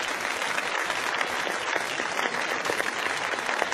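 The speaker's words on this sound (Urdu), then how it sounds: "آج کی پہلی پوزیشن آپ کی بہت ساری تالیوں میں" An audience applauds a first-place winner at a student speech competition, a brisk, steady clatter of many hands clapping together, close and continuous.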